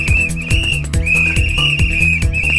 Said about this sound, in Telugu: ట్రాఫిక్ పోలీసు వాళ్ళ లెక్క విజిల్ చేసుకుంటా తిరుగుతుంటారు